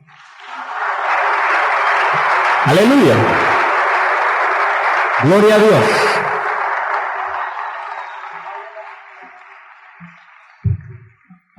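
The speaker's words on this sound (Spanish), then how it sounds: "¿Usted le da un aplauso al Señor?" Church congregation breaks into sustained applause lasting most of the clip, loud and dense, with shouted praise from a preacher's voice rising over it twice before the clapping fades out.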